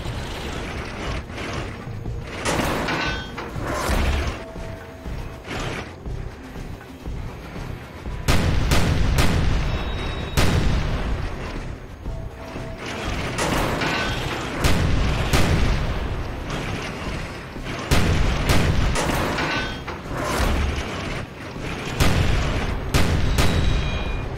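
Flak cannon and gunfire in the Rogue Trooper video game, a dense, continuous barrage of loud booming shots and mechanical clatter, with repeated bursts and heavier blasts throughout, close and without talking.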